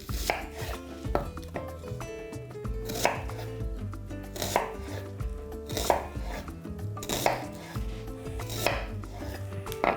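A knife chops onion into small cubes rapidly and rhythmically on a cutting board, close up, with regular louder thuds every second or so and no voices.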